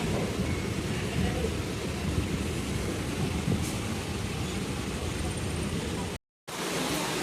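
Steady, loud rumble of a moving train carrying passengers on an evening outing, a continuous broadband roar and rattle that fills the clip, with a brief dropout near the end.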